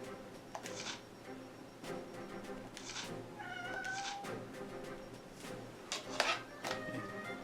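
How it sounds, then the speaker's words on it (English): A house cat meows several times for attention, short separate calls spread through the stretch, with rustling and shuffling noises around them and no talk. "Cat wants attention."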